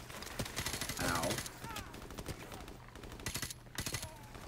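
Rapid bursts of automatic gunfire crackle through a Modern Warfare Remastered firefight, dense volleys repeating close and loud, with a voice speaking over part of the shooting.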